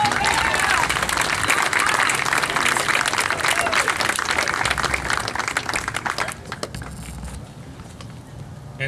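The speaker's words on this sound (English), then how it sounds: "Let's give him a round of applause." A crowd at a university athletic banquet applauds with steady, dense clapping that fades and thins out toward the end.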